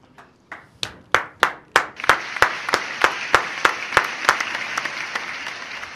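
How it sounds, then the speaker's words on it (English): Audience applause at a defense programs conference, starting as a few sharp, separate claps that quickly swell into steady, dense clapping from a crowd and then gradually thin out. "I noticed there was a lot more applause for my predecessor there"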